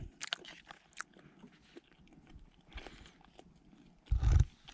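Chewing on a bite of tender steak outdoors, with soft wet mouth sounds and small crunches that end in a louder close burst, no talking.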